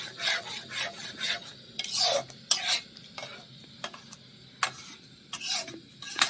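Milk for sandesh being stirred in a pan as it thickens, with repeated scraping, rasping strokes in an irregular rhythm, close and moderately loud, with no talking.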